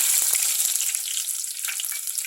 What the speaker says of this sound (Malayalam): കടുക് നന്നായിട്ട് വന്നിട്ട് ഇതിലേക്ക് ഒരല്പം ഉള്ളി ഇട്ട് കൊടുക്കാം